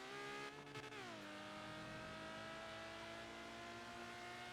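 Engine of a manual 1980s car in the video game GTA NoPixel revving loudly and steadily, a brief dip in pitch as it shifts, then a sustained high drone close up.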